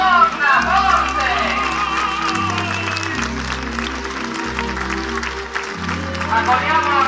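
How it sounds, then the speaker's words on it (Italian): Applause from a street crowd welcoming a statue of the Madonna during a religious procession at the Infiorata in Campobasso, sustained hand-clapping over a low droning band tone and crowd voices. "un applauso alla Madonna, forte!"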